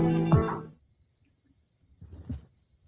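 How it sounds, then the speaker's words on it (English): A high-pitched, cricket-like tone recorded in Havana holds steady and piercing for almost the whole stretch, with brief muffled low thumps and rustles beneath it. "this high-pitched cricket sound seems to appear in all of them"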